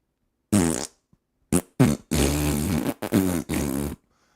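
A voice mimics a series of loud, ripping farts, with several separate bursts of varying length and one long blast in the middle, close and alone.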